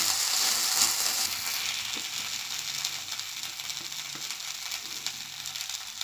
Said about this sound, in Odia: ଏବେ ଆମେ ମୁଗ ଚାଉଳକୁ 2 ମିନିଟ୍ ଭାଜି ନେବା ଘିଅରେ